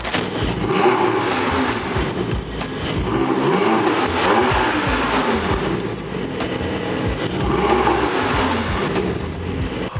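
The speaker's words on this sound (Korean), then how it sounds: "이 GTS의 매력이 이 자연흡기의 끝판왕이라고 할 수가 있는데 이 배기음 한번 확인해 보겠습니다" A 2024 Porsche 718 Boxster GTS 4.0 naturally aspirated exhaust revs repeatedly, rising and falling in loud, roaring bursts, close by and continuous.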